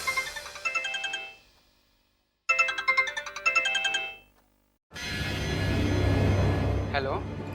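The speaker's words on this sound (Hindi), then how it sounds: "फिर हमने खान मार्केट के लोकल फोन से राजन को फोन लगाया।" A phone ringing on an outgoing call placed from a local phone at Khan Market: two clear bursts of ringback tone separated by a silent gap, followed by a noisy line with a rising chirp as the call connects.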